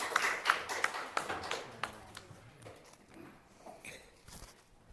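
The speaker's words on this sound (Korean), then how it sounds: "감사의 박수 올려드리겠습니다" A church congregation at a Sunday worship service gives thanks to the choir with scattered applause, a few distinct claps early on that thin out and fade into quiet.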